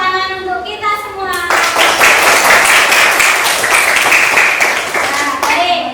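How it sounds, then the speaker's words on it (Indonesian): Group applause in a school classroom, many hands clapping rapidly, children's voices chiming in over it, the clapping continuous and fairly loud before tapering off. "Tepuk tangan untuk kita semua."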